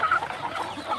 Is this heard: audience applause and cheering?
no